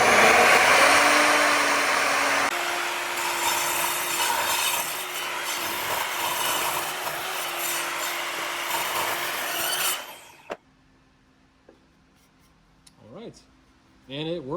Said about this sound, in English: I don't want this completely locked in on this side because I need the wood to be able to breathe as I'm cutting through.